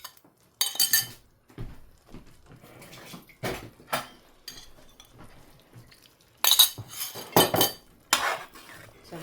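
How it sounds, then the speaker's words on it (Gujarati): A spoon scrapes and clinks against a metal pan while a green masala mixture for makul (squid) keema is stirred, in irregular bursts of close, sharp metallic scraping separated by short pauses. "સારું બધાને મિક્સ કરતા રહેવાનું. કરી દેવાનું આવી રીતે મિક્સ અને ધીમે ધીમે પાકવા દેવું."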